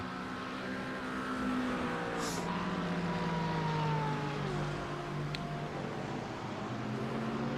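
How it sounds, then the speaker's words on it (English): Porsche GTD race cars roar around the Indianapolis circuit in a close battle for position, their engines whining loud and steady with pitch rising and falling as they pass and shift, alone without any commentary. "Thomas Guy, also in the Porsche, is trying to get that position from Ryan Frey."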